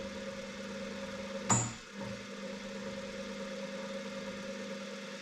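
A small homemade pottery wheel motor hums steadily at a low, constant pitch, with one brief sharp click or knock partway through, close and moderately loud; no one talks.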